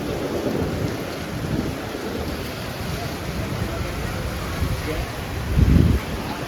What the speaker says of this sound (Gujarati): ઓસામપુરથી બજારમાં લાઇટે જતી રહી અને કાટકા પડી રહ્યા જોરદાર.